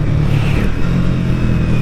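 Triumph Speed T4 motorcycle exhaust note after a downshift while riding twisty roads, a loud, steady low engine rumble up close, continuous with no talk.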